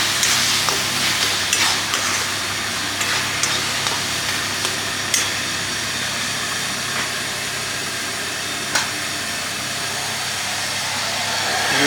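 Hot water poured onto a spice masala frying in a pan makes a loud, dense hiss of steam that holds steady for several seconds, with faint scrapes now and then.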